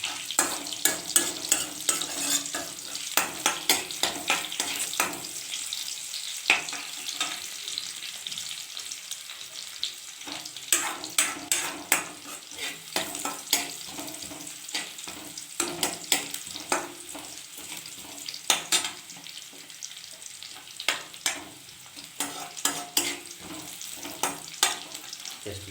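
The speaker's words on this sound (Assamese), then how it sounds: "অকণমান ভাজা হোৱাৰ পিছত পিঁয়াজটো আলুখিনি দি দিম।" Onion and potatoes frying in a pan, a continuous soft sizzle broken by frequent sharp scraping and stirring clatters, close and fairly quiet, with no talk.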